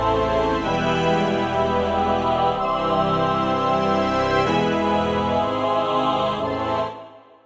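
Layered synthesizer test track from a SpectMorph Two Instruments Linear Morph with Unison preset, a dense sustained chord with rich harmonics that holds steady for about seven seconds, then cuts off abruptly.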